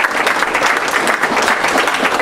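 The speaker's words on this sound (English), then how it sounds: "Let's give Legislator Solages a big round of applause." A live audience at a community State of Black County event in Elmont library breaks into steady, dense applause, many hands clapping continuously and evenly throughout, fairly loud and close, with no talk over it.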